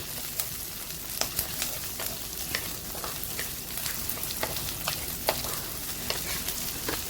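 Garlic and ginger sautéing in a pan for a fish curry, giving a soft continuous sizzle with light, scattered stirring scrapes, fairly quiet and without talk.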